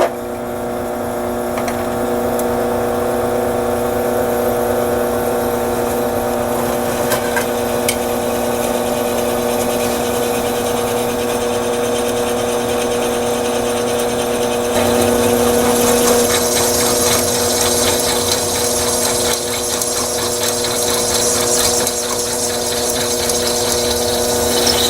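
A unibit step drill bores through clamped metal stock for 5/16 bolts on a caster mount for an engine stand, a steady droning motor whine with constant grinding texture that grows brighter and harsher partway through.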